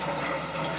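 Water pours steadily from a hot and cold spigot into a measuring container for an acid rinse during clean-in-place cleaning, a brief, dense, continuous rush heard up close with no talking.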